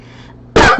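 A single sharp, loud cough bursts out close to the microphone after a brief quiet moment.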